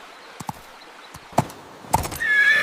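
Cartoon-style horse neighing from a white horse carrying a brave prince into a forest, a short whinny followed by a couple of sharp thumps, then a rising bright tone that swells at the end, fairly close and alone with no talk.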